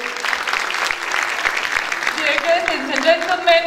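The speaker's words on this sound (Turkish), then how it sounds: "Büyük bir alkış rica ediyoruz." Audience applause at a folk dance festival in Istanbul, a steady dense clapping throughout, with an announcer's voice over the crowd.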